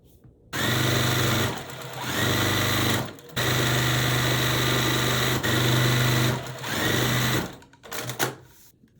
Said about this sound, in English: I'm going to go ahead and re-sew it.